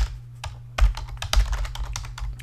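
Rapid clattering keystrokes on a computer keyboard, typing a file name while saving a photo in Photoshop Lightroom, close and fairly loud with irregular bursts and brief pauses.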